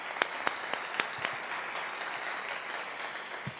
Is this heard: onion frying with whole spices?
no